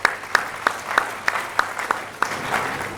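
Slow, evenly spaced claps, about ten sharp hits in three seconds, loud and close, from a small audience at an international academic colloquium.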